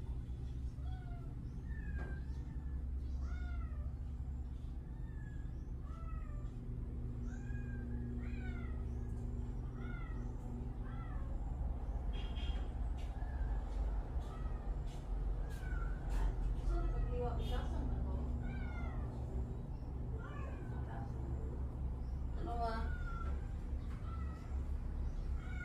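Cats meow again and again over a long stretch, a dense run of overlapping cries at varied pitches, set against a steady, busy low background noise.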